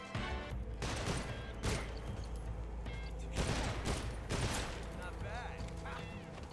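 Bursts of video game gunfire in Metal Gear Solid Delta: Snake Eater, with repeated rapid volleys and single shots over a continuous game soundscape, and a voice talking over the action.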